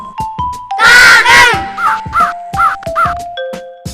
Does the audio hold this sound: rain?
no